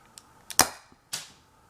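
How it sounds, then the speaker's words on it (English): A homemade gas-powered BB sniper rifle fires with two sharp, close cracks about half a second apart, each with a short bright tail, plus a few faint clicks around them. "And here we go, firing."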